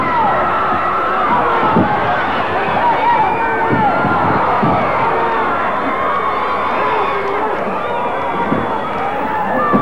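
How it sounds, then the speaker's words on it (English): A wrestling arena crowd roars and cheers wildly at a match, with dense sustained noise, shouts and whistles running throughout and no letup. "This crowd is going wild."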